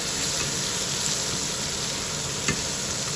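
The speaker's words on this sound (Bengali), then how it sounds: "এটাকে এবার ভালো করে কষিয়ে নেব মশলা কষানো হয়ে গেছে" Spice masala for a rohu fish curry is sautéed in a pan, making a loud, continuous close-up sizzle with stirring and one brief scrape near the end, and no speech.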